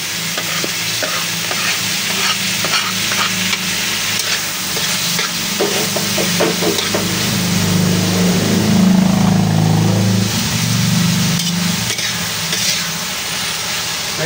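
Onion, garlic and tomato sautéing in a large batch of pork Bicol Express, loud continuous sizzling with repeated stirring and scraping, a heavier low rumble swelling midway through.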